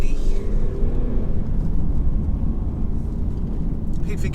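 A 2018 Mercedes C300d cabriolet with a 2.0L diesel engine revs steadily while driving, a loud continuous low rumble of engine and road noise throughout.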